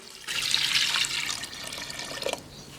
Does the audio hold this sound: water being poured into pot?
yes